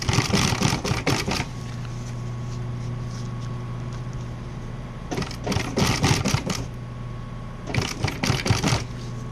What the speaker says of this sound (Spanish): Nos venimos cosiendo despacio.